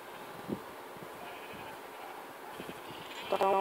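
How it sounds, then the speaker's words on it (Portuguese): Sheep in a blocky survival video game bleat a few times, faint under background game noise, with a brief louder bleat near the end. "Ó, tá aqui ovelha."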